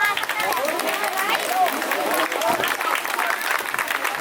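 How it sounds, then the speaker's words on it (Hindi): Applause from an audience welcoming a guest onto a stage at a gathering, a dense steady clatter of many hands lasting throughout, mixed with crowd chatter and voices. "उनके स्वागत के लिए तालियां बजाते रहें। ताली जोर से बजाते रहें।"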